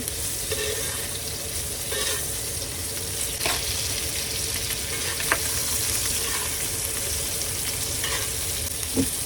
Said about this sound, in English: we're just going to baste it with the butter, the oil, get all those flavors in there